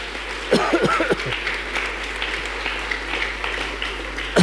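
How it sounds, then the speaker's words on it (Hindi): Audience at a Jain monk's religious discourse in Indore claps together, a steady sustained round of applause filling the room for several seconds. "पसंद है आपको तो ताली बजा दो"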